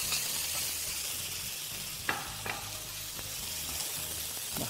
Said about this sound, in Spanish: Y ahora echamos las patatas.